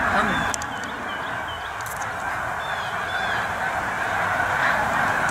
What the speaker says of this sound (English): now all this racket is snow geese.